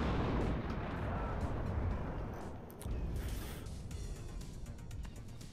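Tank cannon fire from a Chieftain in the WARNO wargame, heavy booming blasts rumbling continuously with a loud low-frequency roll and a sharper report near the middle, no talking.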